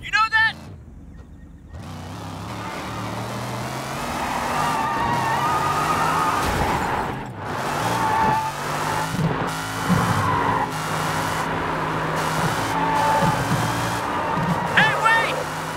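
A car driving in the video game Sleeping Dogs, a steady engine drone with shifting revs and tire noise, under game characters talking loudly.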